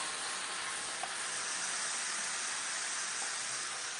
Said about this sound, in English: So we'll deglaze the pan.